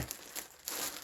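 Brief, close crinkling of plastic packaging, two quick bursts of rustling separated by a short pause.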